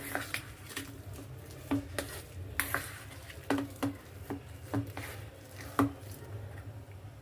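Wet, squishy hand-mixing of a spice paste with poppy seeds in a home kitchen, soft irregular squelches and pats, moderate and close, with no talking.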